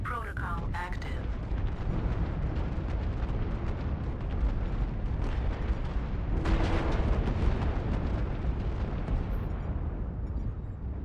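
Tank strike explosions in a video game make a continuous heavy rumble of blasts and booms, loud and dense throughout, with voices faintly underneath.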